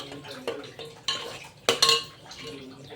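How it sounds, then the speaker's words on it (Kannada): Cooked kidney beans, soaked overnight, go into boiling masala in a pot with a few sharp metallic clinks and scrapes of a spoon against the vessel, spaced irregularly over soft bubbling. "ಸೊ ಇದನ್ನು ಹಾಕ್ತಾಯಿದ್ದೀವಿ ರಾಜ್ಮಾನ"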